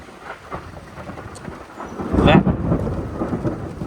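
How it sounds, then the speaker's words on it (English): Thunder from lightning in a storm, a loud rumbling crack that builds midway and rolls on under steady rain, with no talking. "that was lightning, so I'm going to be going inside"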